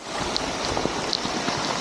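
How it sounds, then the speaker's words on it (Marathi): In heavy village rain, floodwater rushes and roars through the village as a dense, steady wash of noise, with rain pattering over it in a short, continuous stretch and no talking. "गावामधून बघा किती पूर जातोय"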